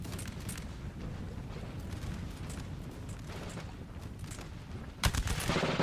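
Musket volley fire in the Napoleon Total War video game during a battle against Russian troops, a dense crackle of scattered shots rolling continuously, then a sharper, louder burst of gunfire near the end.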